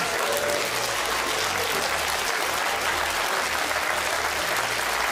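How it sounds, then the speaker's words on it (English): A studio audience at a televised quiz show gives a loud, continuous round of applause. The thick, even clapping holds steady throughout without letting up. "Let's give ourselves a huge round of applause"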